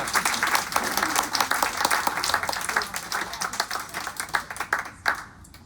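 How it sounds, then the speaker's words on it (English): Audience applause at a poetry reading, dense steady clapping from a room of listeners that thins toward the end into a few scattered claps. "One more round of applause for Judith."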